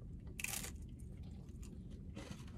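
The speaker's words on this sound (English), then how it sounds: "You hear that crunch, really crunchy, really delicious." Crunchy raisin bread bitten and chewed at a casual restaurant, two sharp crisp crunches with a short pause between, close up over steady dining-room murmur.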